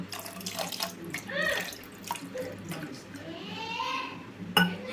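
Water runs steadily from a tap into a container, a continuous splashing stream with a few clinks, while someone talks nearby.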